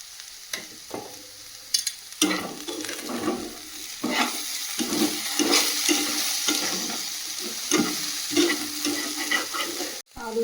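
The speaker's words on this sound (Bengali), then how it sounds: "আলুটা ভাজা ভাজা হয়ে গেছে" Potatoes with salt and turmeric frying in a pan, a continuous close sizzle with rhythmic scraping stirs of a utensil, steady and moderately loud, ending in a brief clatter.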